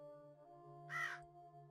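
A single raven caw in the video game The Huntsman: Winter Curse, one short hoarse call over a steady low background hum, fairly faint and alone.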